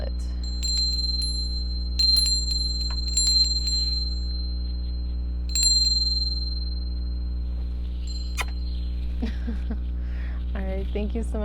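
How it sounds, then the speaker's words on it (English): A bright bell rings several times with sustained metallic overtones, its tone lingering and fading, followed by a voice speaking near the end. "Go ahead and ring the bell"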